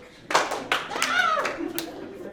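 Participants in a musical theater workshop exercise clap their hands in a few sharp separate claps, with an instructor's voice calling out between them.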